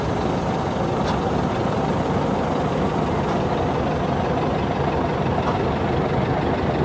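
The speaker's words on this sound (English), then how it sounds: "It's a 1938 Minneapolis Moline UTOX with an open tractor." A 1938 Minneapolis Moline UTOX open tractor idles at a threshermen's show of vintage machinery, its engine giving a continuous, loud, low rumbling chug close by.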